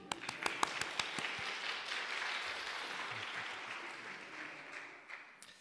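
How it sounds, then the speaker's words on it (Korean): A church congregation at a Sunday worship service breaks into applause. A few sharp individual claps open it, then it swells into a dense, even round that slowly thins and fades toward the end. "박수 치시면 크게 치시죠 뭐."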